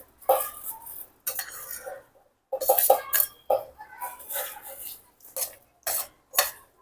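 Ingredients for a curry leaf chutney being tipped and scraped into a mixer jar, with several short bursts of clinking and rattling against the metal separated by brief pauses.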